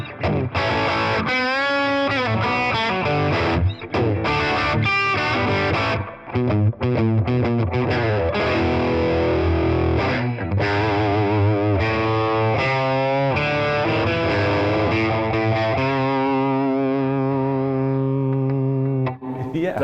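Electric guitar played with high gain through a Line 6 Catalyst 200 amp, loud and heavily distorted, with chugging riffs, sustained chords and ringing bends filling the whole stretch without a break.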